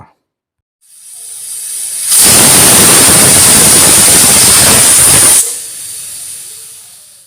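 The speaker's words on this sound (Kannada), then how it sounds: "ಈಗ ಕುಕ್ಕರ್ ಲೆಡ್ನ ಕ್ಲೋಸ್ ಮಾಡಿ ಒಂದು ವಿಜಲ್ ಕೂಗಿಸ್ಕೊಳ್ಳೋಣ" A pressure cooker whistle on a stove cooking avarekalu (field bean) pulao shrieks loudly for about three seconds in a steady, high-pitched jet of escaping steam, framed by softer hissing before and after.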